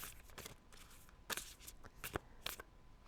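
Oracle cards being shuffled for a tarot reading, a series of crisp riffling bursts and soft slaps coming in irregular clusters, close and clear with no voices.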